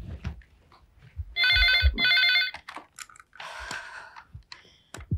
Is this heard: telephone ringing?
yes